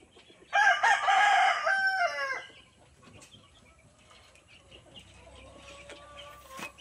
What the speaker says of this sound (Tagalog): Malapit na tayong matapos sa pagpapakain ng mga manok.